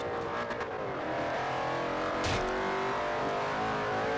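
A racing car engine in the Forza Horizon video game roars continuously at high revs, loud and close, with a brief tire squeal and shifting engine pitch.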